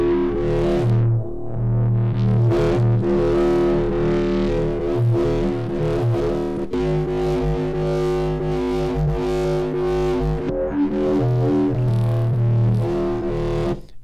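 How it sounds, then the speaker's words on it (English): A heavily distorted synth bass plays a steady, gritty riff with layered buzzy harmonics, loud and continuous with no talking. "we can maybe apply just a little bit more distortion to this,"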